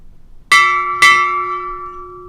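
A ship's bell rings twice at a naval retirement ceremony, two sharp clear strikes about half a second apart, each leaving a long bright ringing decay in an otherwise quiet room.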